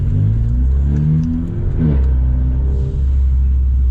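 A Volkswagen Scirocco with pops-and-bangs tuning, engine warmed up, revs repeatedly, its deep rumble climbing and falling in two or three surges with a sharp crack at the very end, loud and close with no talk.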